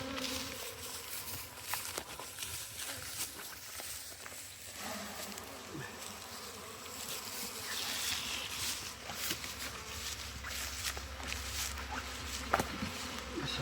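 Honey bees hum around an opened hive during a split of a swarmed colony, a faint steady buzz with scattered handling noises and brief rustles.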